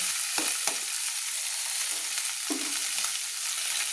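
Descaled fish pieces frying in hot oil for a cabbage and fish bharta, a continuous close sizzle with a few sharper crackles and stirring clatters, no talk.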